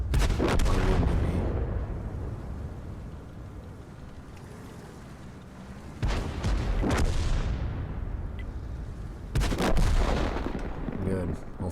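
Tank cannons boom in the World of Tanks video game, with three heavy blasts spaced a few seconds apart, each followed by a rumbling decay over a low engine drone.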